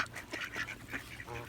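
Ducks at a temple pond quacking repeatedly while being fed, a quick run of close, moderately loud quacks and honks, with faint voices in the background.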